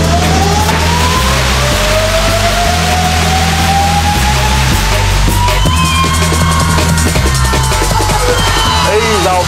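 An M1 Abrams tank's engine revs hard as the vehicle spins, a loud continuous turbine whine rising steadily in pitch over a deep rumbling drone, close and sustained throughout.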